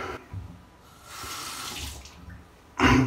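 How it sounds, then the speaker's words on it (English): Water runs from a tap as a razor is rinsed after a shave, a steady close splashing flow that swells louder in a strong gush near the end. "you just rinse it off and then put it back in the container"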